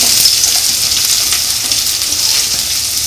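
Chopped onions sizzle steadily in hot oil in a cooking pan, a dense, even frying hiss that stays loud and close throughout with no one talking.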